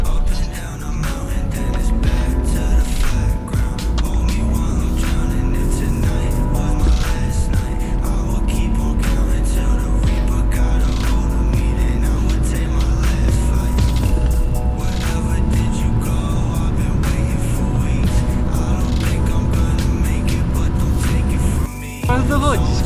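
Two BMWs, an E36 and an E46, race through city streets at night, their engines droning steadily and loudly with revs climbing in long sweeps, heard from inside one of the cars.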